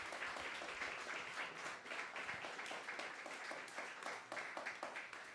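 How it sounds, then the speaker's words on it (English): Audience applause for a panel of speakers at a public talk on adaptive reuse of sites of memory and trauma in Philadelphia, a steady dense clapping from a sizable crowd filling the whole stretch without speech. "I want to give them one big more round of applause before we go to questions."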